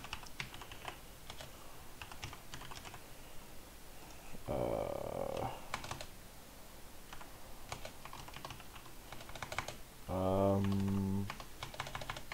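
Rapid clattering keystrokes on a computer keyboard continue steadily at close range, broken by two short bursts of a louder droning tone, with a voice speaking faintly at times.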